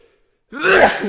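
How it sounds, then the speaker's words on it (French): A single close sneeze bursts out after a moment of near silence, loud and breathy with a trailing exhale. "Attends, je vais devoir éternuer."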